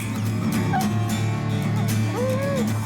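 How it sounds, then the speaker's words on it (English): Hunting dogs in the Rocky Mountains bark and yip up at a tree where they believe a cat is perched, with short whining cries rising and falling over a steady outdoor background. "It's those short, sharp, frantic barks that tell you the dogs think a cat is on a limb."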